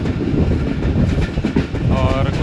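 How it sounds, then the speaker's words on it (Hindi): Heard from on board, the Subak Raftar railcar passes through Mankiala station with a loud, steady rolling rumble and clatter of wheels, plus a faint wavering squeal near the end. "इस वक्त हमारी ट्रेन मनक्याला रेलवे स्टेशन से पास थ्रू कर रही है"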